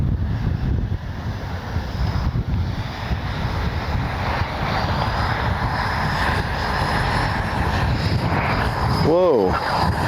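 An Arrows RC MiG-29 twin 64mm model jet on its maiden flight gives a steady, rushing ducted-fan roar mixed with wind noise, holding at an even level throughout.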